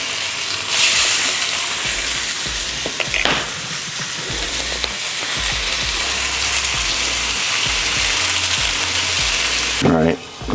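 Chicken fries in a pan with a loud, close, continuous sizzle, broken by scraping and stirring clatter and a few bumps of the pan.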